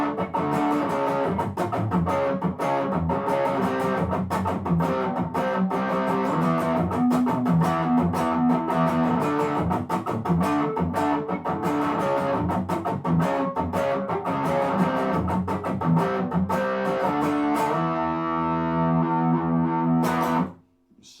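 Distorted electric guitar strums chords through a continuous progression from Sonic and the Secret Rings, dense and loud throughout with no talking, then cuts off abruptly near the end.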